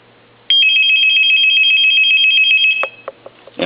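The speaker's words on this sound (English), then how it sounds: "I'm going to stop the ring." A Shenzhen Odean CY-501A telephone under repair rings with a loud, steady electronic trill lasting a little over two seconds, then stops abruptly, followed by a few handset clicks and knocks close by.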